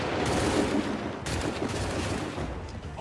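Musket volleys in Assassin's Creed 3 battle, a dense crackling fusillade of gunfire with a sharp fresh volley about midway, loud and continuous over a rumbling low bed, no talk.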